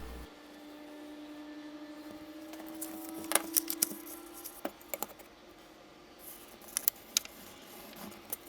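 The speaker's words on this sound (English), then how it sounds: "I'm cutting out around the edge of the pattern" Scissors cutting around the edge of a paper pattern for a clip-on gun magazine pouch: sparse, crisp snips and small clicks, close up, spaced irregularly over a low steady hum, with no voices.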